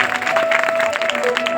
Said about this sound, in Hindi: हमारे परीक्षित जी के लिए जोरदार तालियां बजाएं,